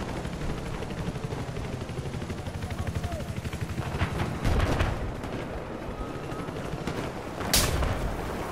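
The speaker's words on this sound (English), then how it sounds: "I hear a sniper" Rifle shots on a busy Battlefield 4 battlefield, two louder cracks standing out from a continuous bed of distant gunfire and explosions, with a faint voice briefly in the mix.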